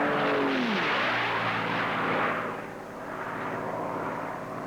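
A racing airplane at the 1979 Reno Air Races roars past, a loud broad engine rush with a falling pitch sweep as it passes, fading slightly before swelling again.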